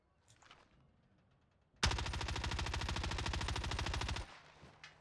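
A long, loud burst of rapid automatic gunfire in a shooter game, aimed at a distant sniper, running unbroken for over two seconds after a quieter lead-in.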